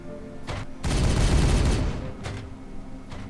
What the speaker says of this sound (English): Open fire! Firing on target!